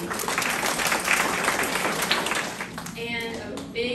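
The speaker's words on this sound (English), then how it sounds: "So a round of applause to you." Applause fills the room at a Sunday school graduation party, a thick continuous wash of clapping from a crowd while voices talk and call out over it.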